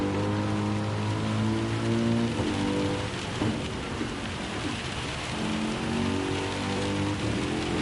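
Steady rain in a racing video game, a dense even hiss over the low drone of car engines that holds for the whole stretch.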